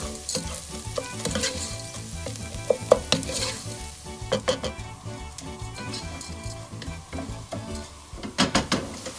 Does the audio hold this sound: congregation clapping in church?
no